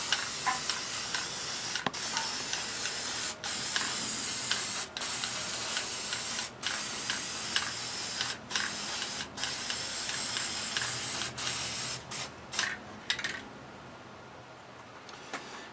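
Aerosol spray paint hisses steadily and loudly onto homemade shoot-and-see targets, a near continuous spray broken by short pauses between bursts, with no talking.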